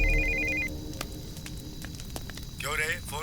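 A telephone rings with a brief, rapidly pulsing electronic trill during a tense Hindi film scene. Steady background noise runs underneath, and a voice speaks near the end.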